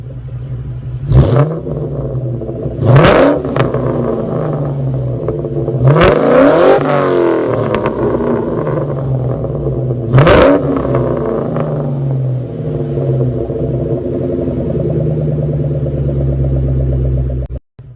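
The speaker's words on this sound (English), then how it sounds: "I'll leave you with some revs of the Cobra." A Ford Mustang SVT Cobra engine revs hard several times, each sharp blip rising and falling back to a deep, loud idle rumble between bursts, close by.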